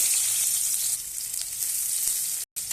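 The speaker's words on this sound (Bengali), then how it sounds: "পেঁয়াজটা ভালোভাবে ভেজে নেব লাল করে" Onions fry in hot oil in a wok, with a steady, bright sizzle that stays loud and close and breaks off for a moment near the end.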